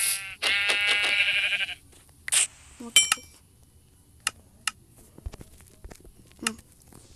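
A sheep gives one loud, close, drawn-out bleat, followed by a few sharp clicks and light taps against a quiet background.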